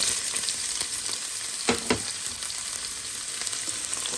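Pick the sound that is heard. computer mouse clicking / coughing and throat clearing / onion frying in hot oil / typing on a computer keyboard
onion frying in hot oil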